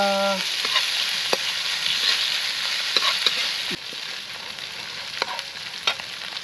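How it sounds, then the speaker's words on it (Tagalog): Chicken sautéing in a pan, a constant close sizzle with scattered scrapes and taps of a spatula stirring, steady and loud with no talking. "Gisa-gisa natin. Gisa-gisa."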